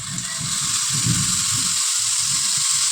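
Boondi batter sizzles steadily in hot oil laced with ghee, a continuous crackling frying hiss with soft bubbling pops, close and even throughout.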